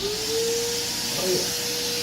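A vacuum sucks up freshly trimmed hair and mustache clippings, a steady close roar with airy hiss and a faint whistling tone that briefly shifts as the nozzle moves.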